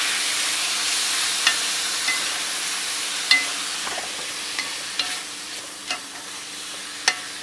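Rice stirred in a hot frying pan with a steady sizzle, broken by several scraping, clattering utensil strokes against the pan.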